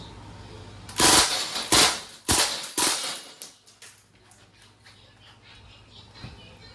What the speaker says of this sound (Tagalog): Testing MPW Bushmaster by Crossman. Full auto agad. Switch natin yung red dot. Firing.